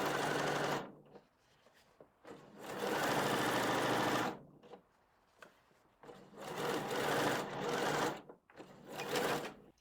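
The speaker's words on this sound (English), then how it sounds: "And while we're at the sewing machine," A sewing machine stitches in several rapid, whirring bursts, each lasting a second or two, separated by short quiet pauses.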